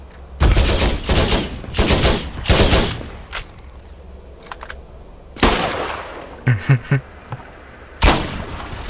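Repeated bursts of gunfire in the video game Borderlands during a co-op firefight, several loud volleys early on, then scattered single shots and a final sharp burst, with no talking.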